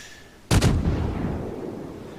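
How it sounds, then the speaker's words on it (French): A naval gun salvo from the cruiser Boise in World of Warships, one sudden deep boom with a doubled crack that rolls off into a long rumbling decay. "vous voyez que je rate mes premiers tirs, mes premières salves"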